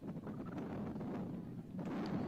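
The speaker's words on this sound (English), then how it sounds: "you know it's a windy day" Strong wind sweeps across a college football field during a Dakota Wesleyan versus Doane game, roaring and buffeting the microphone in a steady, unbroken rush with a slight surge near the end.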